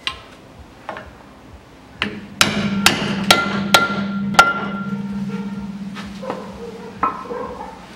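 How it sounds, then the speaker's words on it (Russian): A hammer strikes a nut on a Land Rover Defender rear hub with a series of sharp metallic taps, several in quick succession, some ringing briefly, in a workshop with no talking. "Беру молоток и фиксирую гайку по вот этому срезу."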